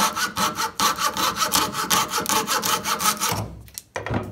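Coping saw cutting a curve in wood, a close rhythmic rasp of quick back-and-forth strokes, steady for about three seconds before pausing and resuming briefly.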